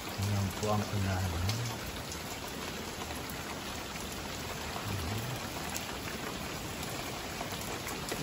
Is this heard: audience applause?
no